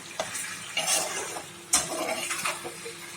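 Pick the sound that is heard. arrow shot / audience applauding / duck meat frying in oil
duck meat frying in oil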